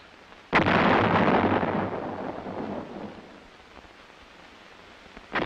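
A towed 105mm howitzer fires once with a sudden heavy boom that rolls away in a long, fading rumble, and a second blast begins right at the end.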